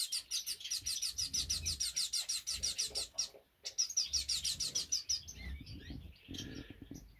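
Small birds in a bird shed chirp in a fast, steady run of close, bright calls. The chirping pauses briefly, then resumes before fading into softer rustling.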